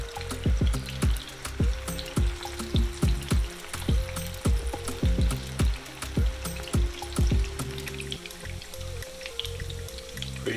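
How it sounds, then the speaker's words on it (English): Plantain slices fry in hot oil, giving a steady sizzle broken by repeated clanks and scrapes of a utensil against the pan, close up with no talking. "we're pretty much gonna let these guys fry on both sides till they're cooked pretty much all the way through"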